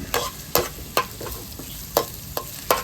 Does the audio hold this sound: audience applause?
no